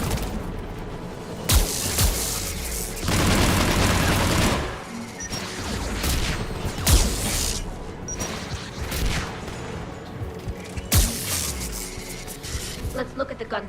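Anti-aircraft guns fire in the Mass Effect 3 video game: loud bursts of rapid booming shots and sharp crashes come in clusters between quieter stretches of ambient battle noise, with game dialogue heard alongside.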